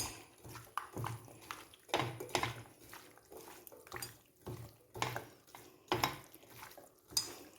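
Metal spoon scraping and clinking around a cooking pot as beef and Chinese potatoes are stirred together, a steady series of rhythmic scrapes and knocks close by, with no talking.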